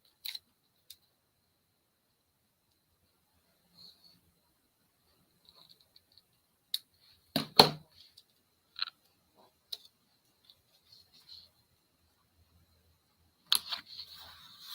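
Scissors trim scrapbook paper in a few short, sharp snips, with a brief cluster of cuts near the start of the passage and more near the end, spaced by long quiet gaps in an otherwise silent room.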